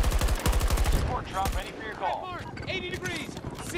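A turret machine gun in Battlefield 2042 hammers out a fast, close burst for about a second. Sharp clicks and quieter battlefield noise follow, and a voice comes through briefly.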